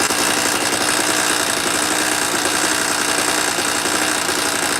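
A portable generator's engine runs loud and steady after a pull-cord start, with a continuous, dense mechanical drone and a rapid knocking pulse that holds unchanged throughout.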